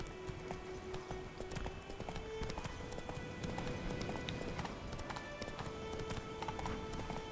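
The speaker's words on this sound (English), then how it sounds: "get on the horse" Horse hooves clip-clop at a gallop in The Witcher 3: Wild Hunt, a steady rapid beat under music and game sounds. The hoofbeats are fairly quiet in the mix and blend with a low background rumble.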